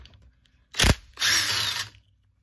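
A ratchet turns carburetor screws on a Homelite string trimmer: one short loud mechanical burst, a brief pause, then a longer steady clicking run of about a second, up close with no talk.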